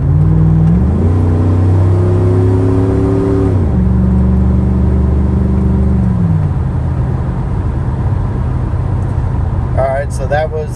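A Chevy Silverado's 4L60E automatic transmission downshifts while driving, the engine note stepping up in pitch as revs climb through several gear changes over a steady road rumble, with talking over it.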